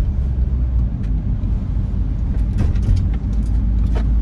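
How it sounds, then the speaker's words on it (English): A garbage truck drives close behind a car on Tennessee Avenue on the south side of Fort Worth, Texas, heard as a steady, loud, low engine and road rumble with no talking. "I got a trash truck behind me too."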